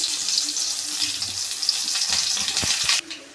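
A sprig of curry leaves hits hot oil for garlic sambar, giving a loud, bright sizzle and crackle that runs steadily, then cuts off sharply near the end, leaving only a faint hiss.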